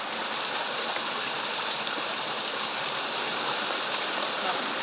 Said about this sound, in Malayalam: ഇടയ്ക്കിടയ്ക്ക് ഇതേപോലത്തെ ചെറിയ അരുവികളുണ്ട് കുടിക്കാനും കുളിക്കാനും